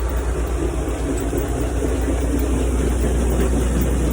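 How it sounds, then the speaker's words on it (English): A tractor drives a grain auger loading harvested wheat into a wagon and grain bin on a farm, a loud, continuous low engine rumble with steady mechanical whirr throughout. "That tractor's running the auger."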